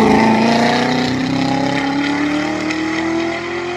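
A new Porsche GT3 RS engine at high revs on a lap of the Nürburgring, a loud, close, continuous howl climbing steadily in pitch as the car accelerates.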